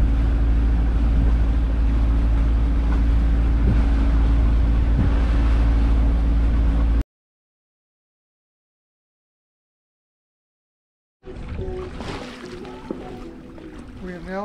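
A sailboat's motor drones steadily at low pitch while cruising on Fraser Bay, a close, constant rumble with wind noise that cuts out abruptly, followed by silence and then other sounds.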